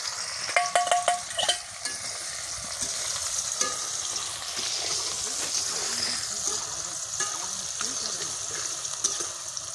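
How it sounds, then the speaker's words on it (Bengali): Chilli dropped into hot oil in a pan with onion, cardamom and cinnamon, a loud burst of sizzling at first that settles into a steady frying hiss with light stirring. "এই যে আমি এখন ছেড়ে দিলাম মরিচটা।"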